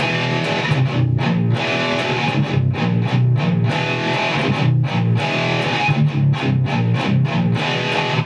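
A heavily distorted electric guitar plays a fast, chugging palm-muted riff, loud and rhythmic with sharp stop-start accents, played alone without voices.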